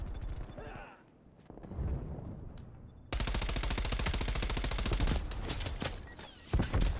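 Rapid automatic gunfire from Call of Duty: Black Ops Cold War comes in loud, dense bursts that dominate the second half, with a voice talking briefly before it starts.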